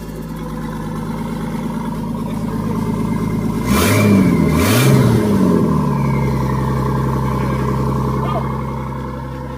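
A turbocharged car engine with no idle control idles roughly, then revs sharply twice in a quick double blip before settling back to a steady, loud drone, with a voice talking over it.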